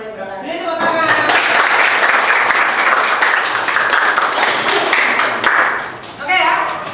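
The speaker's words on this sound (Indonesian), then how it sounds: "Ini tepuk tangan." A classroom audience applauds after a group's lesson presentation, a dense, sustained burst of clapping lasting several seconds that dips briefly near the end before picking up again, with voices mixed in.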